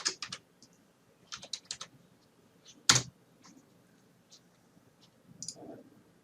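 Sparse clicks on a computer keyboard come in short, irregular bursts with pauses, close and fairly quiet, with one sharper key strike near the middle and no talk.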